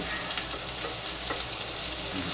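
Tofu, egg and mung bean frying in a cast iron pan with the heat off, giving a steady, close, continuous sizzle with faint stirring scrapes throughout.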